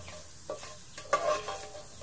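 Corned tuna stirred in a hot dry pan without oil: a low sizzle with a few soft scrapes and one sharper clack of the spatula, close and quiet, with no voices.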